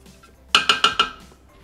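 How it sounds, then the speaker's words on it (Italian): A spatula scrapes sugar down the sides of a Thermomix bowl, giving four quick, bright clinks in an even rhythm, close and clear against near silence. "Riuniamo sul fondo del boccale lo zucchero."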